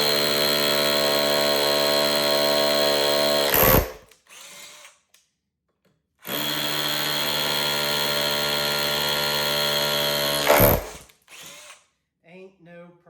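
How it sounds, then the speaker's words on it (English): Cheap cordless SDS hammer drill boring a 1/4 inch hole into brick in hammer mode, two loud sustained rattling bursts of several seconds each, separated by a pause, with brief speech in between. "So hammer drill mode, in the brick, 1/4 inch."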